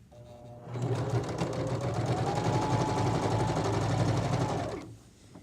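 A sewing machine runs steadily for about four seconds, stitching a pillowcase seam at 3/8 to 1/2 inch with backstitching. Its rapid, even whirring needle sound is close and loud, starting and stopping abruptly with no talk.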